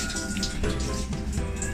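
Water streams steadily into an LG washing machine as it fills, a continuous close rushing and splashing with no talk over it.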